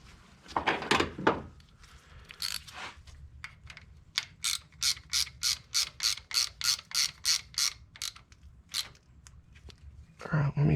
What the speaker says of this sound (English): Screw this back in with the washer.